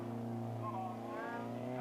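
An RS2000 race car running at the Crystal Palace circuit gives a steady engine drone with shifting revs, heard quietly at a distance under a faint, muffled commentary voice.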